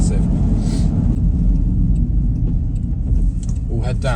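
A 2023 Land Rover Defender 110 rolls down a track with a close, steady engine and road rumble under the cabin, while someone talks over it.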